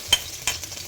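Onion, garlic and ginger sautéing in hot oil, a brief soft sizzle with two quick stirring scrapes, close and alone.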